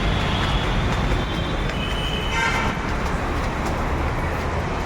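A Hyderabad metro train runs steadily, its loud rumbling rolling noise and faint wheel squeal continuous throughout, close by with no talking.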